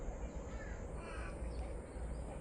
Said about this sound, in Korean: 까마귀 소리도 들리고.